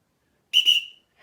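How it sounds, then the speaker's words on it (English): A single shrill samba whistle blast, about half a second long with a short double pulse at the start, sharp and clear against silence. "to let you know the signal to move on to the next note, I'm going to use my samba whistle"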